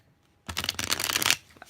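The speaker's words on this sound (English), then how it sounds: "Let's shuffle." A deck of tarot cards being shuffled in a steady run of riffling and slapping for about a second, close and crisp, with quiet before and after.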